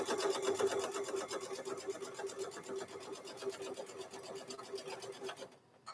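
A sewing machine stitches fabric for a microwave bowl koozie, giving a steady, rapid motor whir with fast needle clatter. It runs continuously at close range for nearly the whole stretch, then stops abruptly at the end.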